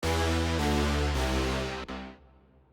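Bright, dense Serum synthesizer sound, loud wide-band chords changing every half second or so, then cutting off and decaying away, with no voices present.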